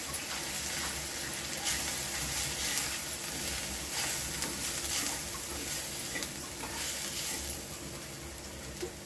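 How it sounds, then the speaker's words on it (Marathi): Gram flour roasting in hot oil in a pan for spring onion paratha, a steady soft sizzle and hiss, fairly faint and continuous with no talking. "ते पण आता ह्याच्यामध्ये चांगलं तेलामध्ये जरा खरपूस असं भाजून घ्यायचं"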